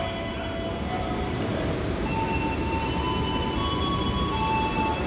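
A Kamandaka passenger train pulls out of a railway station, a steady loud rumble of wagons rolling past close by with faint high wheel squeals running throughout.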